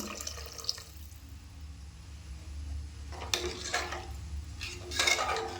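Water is poured into a cooking pot for mushroom biryani, a quiet trickle and splash with clinks of metal cookware, growing louder in bursts toward the end.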